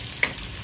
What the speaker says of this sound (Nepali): अनि यहाँ प्याज भुट्दैछु यसरी